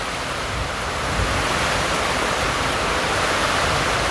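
Heavy rain pouring down with traffic still moving nearby, a dense, loud, unbroken wash of noise throughout.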